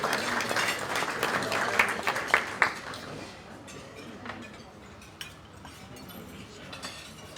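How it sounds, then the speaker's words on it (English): Audience applause greets the winner's announcement at an awards breakfast, dense at first and thinning after a few seconds, with cutlery and dishes clinking throughout. "Give us a round of applause."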